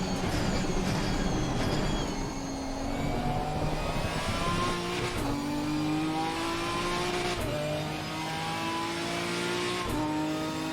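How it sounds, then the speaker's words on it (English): A GT4 race car in Assetto Corsa Competizione drives a lap with its engine loud and steady throughout. Upshifts come about every two and a half seconds, each pitch climb dropping back sharply, and no one talks. "this definitely sounds like a Jetta."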